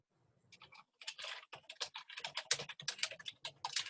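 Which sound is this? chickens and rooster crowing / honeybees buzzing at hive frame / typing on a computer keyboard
typing on a computer keyboard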